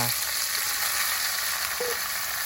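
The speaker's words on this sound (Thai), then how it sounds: "แล้วก็ผัด เมนูนี้เราจะผัดกันไม่นานนะ" Vegetables and mushrooms, with onion, tomato, garlic, red chili and fresh peppercorns, stir-fried quickly in a hot pan, giving a steady, even sizzle that fills the whole stretch with no talking.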